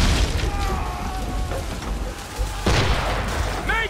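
Naval cannon fire in Assassin's Creed III rolls out in muffled booms amid a dense battle roar, with a sharp blast near the end and shouted voices faintly mixed in.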